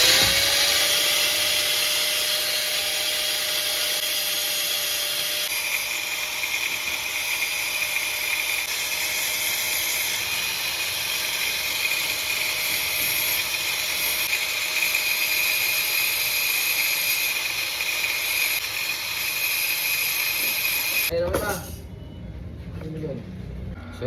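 A continuous loud grinding whine of a power grinder sharpening a metal saw blade, steady for about twenty seconds before cutting off abruptly into quieter noise.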